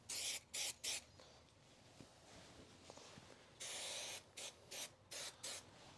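Spray adhesive hissing onto a fabric edge during upholstery of pillars and a shelf in a 2023 Ford Transit van, in several short close bursts, with a longer sustained spray partway through.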